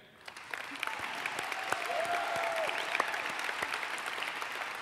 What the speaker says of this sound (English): we should definitely applaud for all of them.